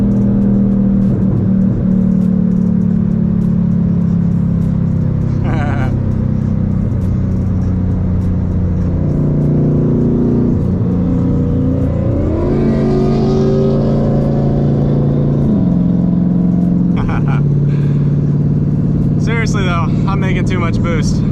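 Twin-turbo Mustang accelerating hard while racing, a loud sustained engine drone with rising and shifting pitch and brief whooshing bursts, heard from inside the car with a voice talking over it.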